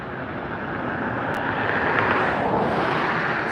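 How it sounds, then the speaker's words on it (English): A Southwest airliner taxis at LAX airport, a steady broadband engine roar with a low rumble that swells slightly midway and holds close and continuous throughout. "Looks like Southwest taxiing up."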